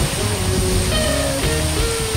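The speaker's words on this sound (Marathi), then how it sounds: "आणि 3 दिवस झाले पाणी खूप जोरात पडतोय." Heavy water pours and rushes steadily near a temple after days of rain, a loud, close, continuous roar with faint tonal traces drifting in the background.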